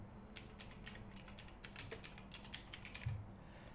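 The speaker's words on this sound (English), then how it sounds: "Now inside description I just simply type my coupon website" Keystrokes on a computer keyboard entering a coupon website description, a quick irregular patter of light clicks in small bursts, close and fairly quiet, with no voices.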